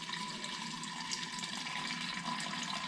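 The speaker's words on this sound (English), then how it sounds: "So the first thing we do is add some filtered water straight into the" Filtered water pours steadily into a glass container while brewing kombucha, a continuous close splashing and filling sound with no talk.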